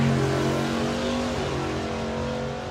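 A drag racing car making a pass at a nostalgia drag meet, heard as a loud, steady engine roar with droning harmonics that fades slightly as it goes on.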